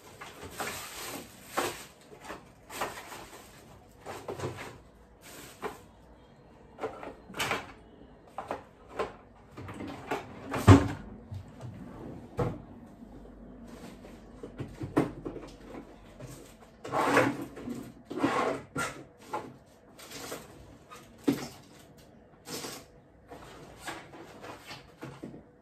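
Rummaging through a cluttered drawer, with repeated clacks, slides and knocks of objects shifting, plus several opening and closing thuds, arriving in irregular bursts with quiet gaps between them.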